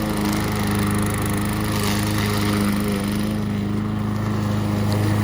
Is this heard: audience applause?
no